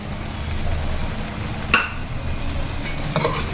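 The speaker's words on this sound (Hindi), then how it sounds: "और इसको अच्छी तरह से मिक्स कर देंगे।" Fried potatoes being stirred into a prawn dum aloo in a pan, giving a soft steady scraping and faint sizzle with a sharp spoon clink near the middle and another toward the end, no talking.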